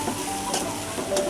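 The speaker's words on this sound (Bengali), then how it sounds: "তেলের উপর একটু ভেজে পেঁয়াজগুলো" Onions frying in oil in a pan for a prawn dish make a brief, steady sizzle with soft crackles, close and continuous, with two slightly sharper bursts and no talking.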